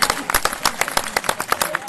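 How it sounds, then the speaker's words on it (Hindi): An audience claps at a Hindi poetry event, a steady patter of many hands that stays close, lively and even for the whole short stretch. "तालियां बजा कर मुझे जवाब देना है"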